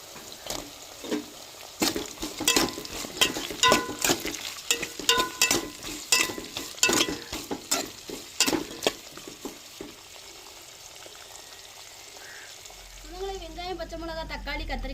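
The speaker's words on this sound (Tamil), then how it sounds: "நம்ம வெட்டி வச்ச தக்காளியும் கத்திரிக்காயும் சேர்த்துக்கிறோங்க." Onion and green chili sautéing in a pan with tomato and brinjal added, sharp spoon scrapes and stirring clatter over a steady sizzle, going quiet near the end before a voice starts speaking.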